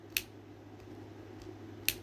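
Two sharp, isolated clicks from the joint of a G.I. Joe Classified action figure being moved, one near the start and one near the end, close and fairly faint over quiet room background.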